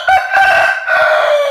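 An Aseel rooster crows loudly and close by, one strong sustained cock-a-doodle-doo with a brief break partway through.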